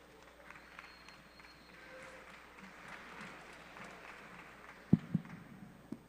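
Audience applause at a hackathon closing ceremony in San Francisco: fairly faint, steady clapping from a crowd, with a few sharper, louder claps standing out near the end.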